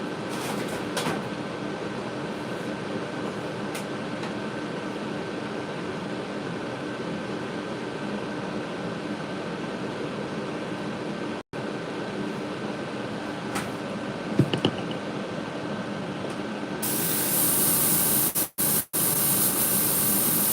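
An air compressor runs continuously with a steady hissing drone while a fishing lure is spray painted, broken by a couple of brief dropouts and turning harsher and louder near the end.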